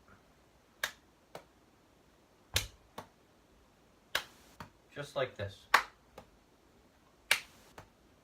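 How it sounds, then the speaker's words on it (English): Sharp, isolated hand claps punctuate a three-ball cascade juggling drill, spaced irregularly about a second apart and close to the listener in a quiet room, with a short spoken phrase in the middle. "when you throw the ball, add a clap"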